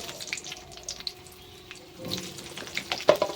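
Potatoes and cauliflower frying in a pan with ginger paste, a short burst of crackling sizzle and scattered pops that grows busier toward the end, close and fairly loud.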